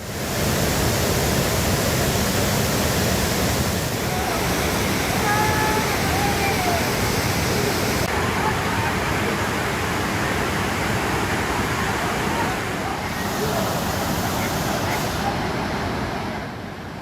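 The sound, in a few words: Hogenakkal waterfall rushing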